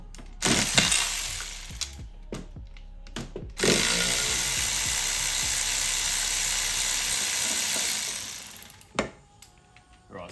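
A hand crank handle is turned in a fast ratcheting, clattering run that swells to a steady loud grind for several seconds, preceded and followed by scattered mechanical clunks and knocks.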